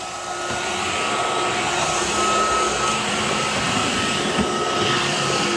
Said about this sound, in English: I can vacuum up a mess on hardwood floor.